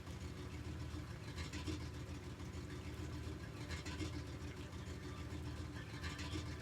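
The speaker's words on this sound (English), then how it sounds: "You hear that engine churning?" Engine noise in the Magic the Gathering Arena video game, a steady low churning drone that runs continuously at moderate level throughout, with no talk over it.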